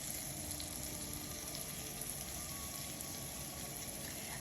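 Veal cutlets frying in butter and olive oil in a pan over a high flame, giving a steady, even sizzle at close range with no talk.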